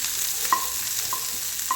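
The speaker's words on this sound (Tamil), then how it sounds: "அந்த பச்சை வாசனை வரைக்கும் வதக்குனா போதும்." Ingredients for palak roti sautéing in a pan: a soft, steady sizzle with three brief, close scrapes from stirring, spaced evenly and heard alone.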